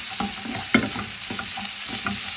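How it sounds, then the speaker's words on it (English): Shredded cabbage and carrots get tossed and stir-fried in a hot pan, giving a steady sizzle broken by several sharp scraping stirs, with no voices. "I'm adding the cabbage and the carrots. All these vegetables, they can be eaten raw. So there's no need for you to overcook them. Just toss them around in the pan."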